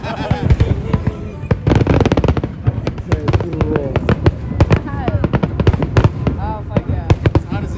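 Fireworks at a Chicago Fire soccer game crackle and pop in rapid, dense bursts of loud cracks and booms. People talk and shout underneath.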